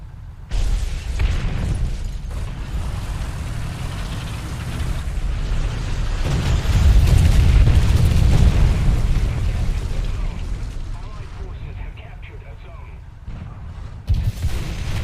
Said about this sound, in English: Dropping artillery on my position